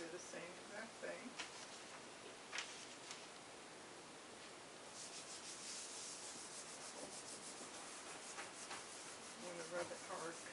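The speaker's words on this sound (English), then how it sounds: "I'm going to rub it hard because the ink will start drying if it's a thin layer." Paper is rubbed hard over an inked stencil laid on a gel printing plate, producing a close, continuous dry rubbing and brushing noise that grows louder and more insistent partway through.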